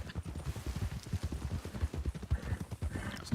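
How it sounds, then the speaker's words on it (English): Horse hooves clip-clopping in the western video game Red Dead Redemption 2, a steady rhythmic trot of a saddle horse, moderately close and fairly quiet. "This horse ain't mine neither. It's a saddler right there."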